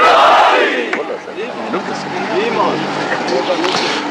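A large crowd at a religious sermon gathering chants the slogan Haidari Haidari with hands raised. It opens in a loud, dense roar of voices that eases into a sustained, rumbling swell of shouting.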